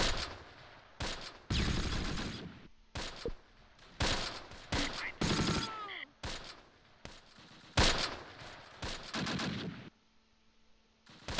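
Battlefield gunfire in the WWII tactics game Close Combat, with loud bursts of machine-gun fire and single shots in irregular clusters, some ricochet whines, and short quiet gaps between volleys.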